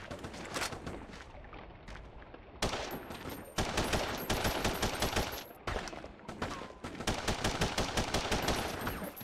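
Gunfire rattles from The Punisher on PS2 in dense, rapid automatic bursts, loud and close, with brief gaps between volleys and no voices over it.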